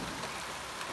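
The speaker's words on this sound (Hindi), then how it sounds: "इतनी मोटी मोटी बारिश हो रही है" Heavy monsoon-style rain pours down in a dense, constant hiss, loud and close with no gaps.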